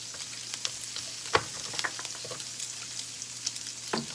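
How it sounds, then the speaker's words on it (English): Sausage pieces fry in a pan with a soft, steady sizzle, broken by a few sharper crackles and pops and occasional stirring, heard close and fairly quiet with no talking. "the sausage is cooking fast"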